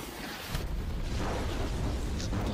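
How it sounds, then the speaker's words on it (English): An animated explosion effect being built for a streamed background: a sustained, loud rumbling roar with crackle that swells after a brief quieter start and holds steady to the end. "we haven't done explosions yet"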